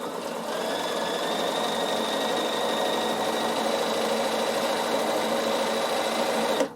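Bernina sewing machine fitted with a 1D foot running steadily as it stitches boiled wool seams, a continuous close mechanical whir that holds level for several seconds and then stops abruptly.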